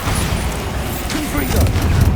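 A Bombarda explosion spell in the Hogwarts Legacy video game gives a short burst of booming, crackling impact under continuous game noise, with a voice calling out spell names nearby.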